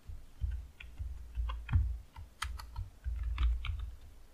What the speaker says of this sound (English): I'm going to type your name.